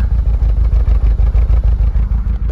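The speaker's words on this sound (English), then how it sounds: "Ooh, bad misfire." A 2012 Range Rover Evoque 2.0 engine idles close by with a lumpy, uneven low pulsing, its rhythm stumbling and skipping with a bad misfire.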